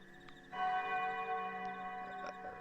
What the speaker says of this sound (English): You can hear in the distance a church bell rings